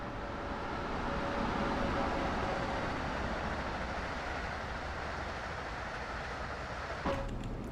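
Passenger train in Train Sim World 2 rolling along at speed, a steady broadband rumble of wheels and track with a faint sustained tone, near and continuous, with a brief clank toward the end.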